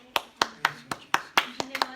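Clapping in a Hindi church service: about nine sharp, close hand claps in a steady rhythm, each distinct and separated by brief pauses, with a faint low hum underneath.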